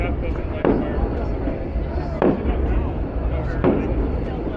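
Fireworks at an America 250 celebration, three sharp bursts about a second and a half apart over a dense, continuous crowd roar.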